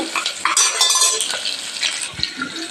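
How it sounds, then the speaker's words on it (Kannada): Green chillies crackle and sizzle in hot oil in a pan, with close, bright spattering and a few metallic scrapes of a spoon over a short stretch. "ನೋಡಿ ಮೆಣಸಿನ್ಕಾಯಿ ಫ್ರೈ ಅದು"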